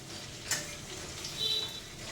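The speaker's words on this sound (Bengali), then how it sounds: "যেমন কি সুন্দর পনির ভাজছে অভিজ্ঞান।" Paneer fries in a pan with a gentle continuous sizzle, close and fairly quiet, with a brief bright clink near the start and no talking.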